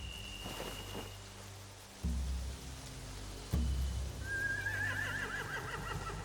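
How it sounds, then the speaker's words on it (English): Horses whinny in the rain in The Walking Dead: The Telltale Definitive Series, with a drawn-out, wavering neigh rising near the end over a steady patter of rain and low rumbling game ambience. "They have horses."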